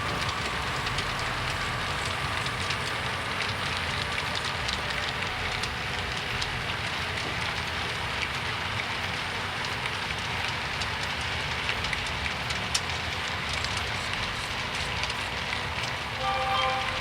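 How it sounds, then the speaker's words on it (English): A train rounds a curve past a slate quarry at Penargil, a steady, continuous rumble of rolling wagons with broadband rail noise holding level throughout, no voices. "Train swings around the curve, passes by the started slate quarry at Penargil"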